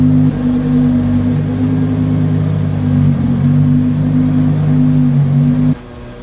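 Lamborghini Huracan Evo supercar engine idling loudly and steadily up close with a deep sustained drone, then cutting off abruptly near the end.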